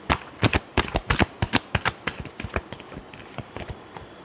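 A deck of tarot cards shuffled by hand, heard as a quick series of crisp, close card riffles and slaps that slow slightly toward the end.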